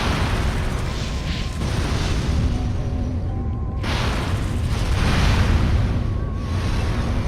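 A house blown apart in the Destroy All Humans video game, a dense, continuous roar of explosions and rumbling booms with whooshing bursts, loud and sustained throughout, with no talking.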